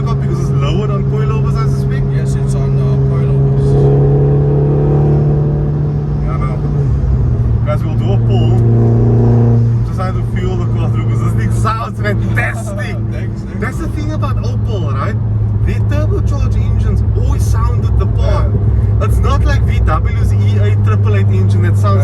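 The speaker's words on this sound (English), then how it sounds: "I love how this car sounds, and the gearbox and clutch." An Opel Corsa OPC engine drones and shifts pitch as it drives, changing tone between gears, with people talking over it inside the cabin.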